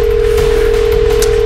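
A telephone line tone from a Hindi crime TV drama sounds during an unanswered call to an India number: one steady, unbroken electronic hum, loud and constant throughout, with no talking over it.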